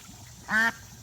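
A duck at a backyard duck pond gives one short, loud nasal quack that stands clearly above quiet outdoor background noise.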